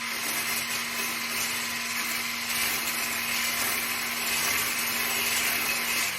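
A kitchen blender runs steadily, emulsifying olive oil into a dressing for a French grated carrot salad, with a continuous loud motor whine and steady hum throughout and no talking.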